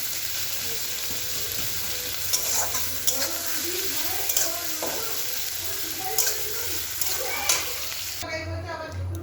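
Onions fry in a pan under a steady close sizzle, with periodic clinks and scrapes of a stirring utensil against the metal, then the hiss quiets abruptly at the end; no talking.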